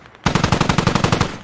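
Automatic gunfire in the military shooter game Squad, one loud close burst of rapid evenly spaced shots lasting over a second, with no talk.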